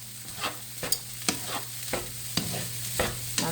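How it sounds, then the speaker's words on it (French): A spoon or spatula stirs rice being browned in a hot pan for a Chinese buffet-style dish. Rhythmic scraping strokes come roughly every half second over a steady sizzle, close and moderately loud, with no talking. "Ça demande beaucoup de bras pour brasser ça"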